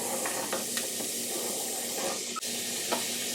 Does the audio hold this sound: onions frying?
yes